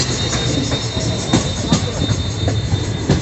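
A train rumbles steadily along the rails on a hillside route with rhythmic clacks and a faint metallic squeal, heard from inside the moving carriage.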